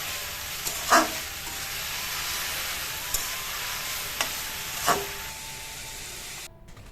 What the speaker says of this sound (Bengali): সবসময় আমি একটু বেশি কাঁচা পেঁয়াজ দিয়ে উস্তা উস্তা ভাজি করি